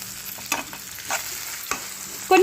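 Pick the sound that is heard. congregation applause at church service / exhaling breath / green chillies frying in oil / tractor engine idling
green chillies frying in oil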